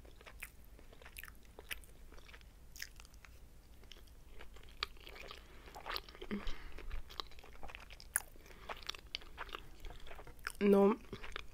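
Sushi rolls being eaten with spicy sauce, close and quiet: soft, irregular bites and wet chewing clicks, with a brief voiced sound near the end.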